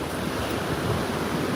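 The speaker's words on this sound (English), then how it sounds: "There's some small waves here." Small ocean waves wash onto a New Zealand beach in a steady, continuous surf roar, with light wind buffeting the microphone and no voices.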